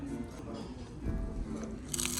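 Someone bites into a crispy fried laver chip topped with rice, Korean beef bulgogi and truffle paste, giving a close, brittle crunch and crackle that continues for about two seconds in a quiet room.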